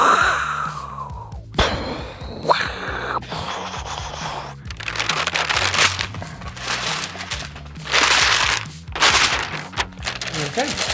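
Brief talking, then a voice imitates wind with a run of breathy whooshing and blowing noises, close and fairly loud.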